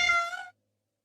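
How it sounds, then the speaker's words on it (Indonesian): A cartoon cat gives one short, bright meow, loud and close, then cuts off into silence. "Dasar kucing nakal."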